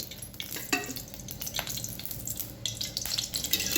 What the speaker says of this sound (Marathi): कढईत टाकणार आहे दोन चमचे तेल